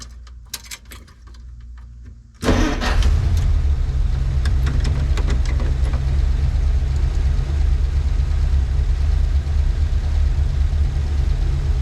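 A 1956 Plymouth Savoy, burning oil, starts after a few quiet clicks; the engine catches abruptly and settles into a loud, steady idle close by.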